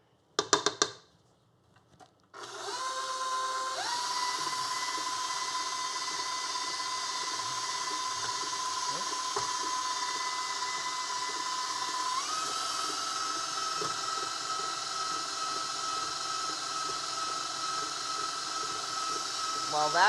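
An electric mixer beats bacon breakfast cookie dough, switching on after a brief clatter and then whirring continuously at high pitch and close range, with a faint step up in motor speed partway through.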